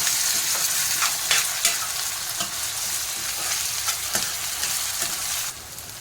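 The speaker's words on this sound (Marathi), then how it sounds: "टोमॅटो पण तेला चांगला परतून घ्यायचा" Tomato frying in oil with onion in a pan makes a continuous close hiss. Scattered spatula scrapes and taps stir through it, and the sizzle drops slightly at the very end.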